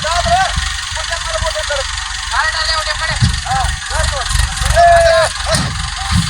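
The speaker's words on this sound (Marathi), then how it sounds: "बघा ट्रॅक्टरचं रिवर्स." A tractor engine reversing in a wet field, a steady low rumble with rising and falling revs, loud and close, with a voice speaking over it.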